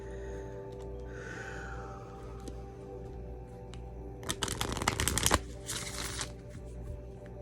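Tarot cards are handled and riffled from the stack in a short, crisp shuffling burst near the middle, followed by a quieter second flurry, close up over a steady low hum.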